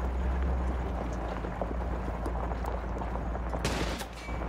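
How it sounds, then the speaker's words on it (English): Sniper and rifle gunfire in the video game Modern Warfare 2 Remastered: scattered shots crackle over a constant low rumble of battle ambience, with a sharper burst near the end. "We're taking sniper fire from multiple directions."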